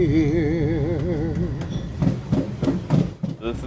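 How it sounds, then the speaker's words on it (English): A scenic train runs toward Seward, Alaska, with a warbling tone over a rumble that gives way to rhythmic clacks and thumps, fairly loud and close, while speech is also present. "This is definitely one of my favorite trains going down to Seward."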